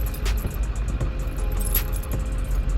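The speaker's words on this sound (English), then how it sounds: "we're spinning out so bad we threw a chain" A pickup truck that has lost its 4-wheel drive spins its wheels in deep snow, with a thrown chain. A loud, churning low rumble comes with rapid rhythmic clanks and rattles, close up and without talking.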